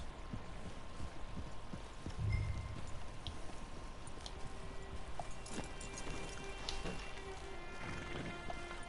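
Horse hooves clip-clop at a steady walking rhythm in the video game Red Dead Redemption 2, moderately close under a faint ambient game soundtrack.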